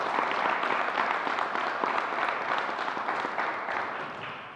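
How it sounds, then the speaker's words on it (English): Sustained applause from an audience at a New York State vaccine announcement event, dense and steady throughout before tapering slightly at the end. "let's give her a round of applause"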